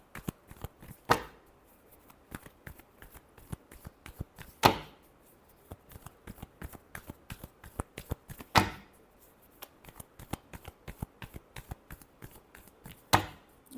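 A deck of tarot cards is shuffled by hand, a rapid series of crisp riffling snaps and flicks with several louder slaps at regular intervals, close and without talk.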